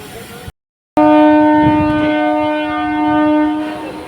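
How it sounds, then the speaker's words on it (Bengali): A train pulls out of Rajban station after a brief dropout, its horn sounding as a loud, steady multi-tone blast held for about three seconds over rumbling wheels and engine noise. "রাজবান স্টেশন থেকে ট্রেন ছেড়ে দিল।"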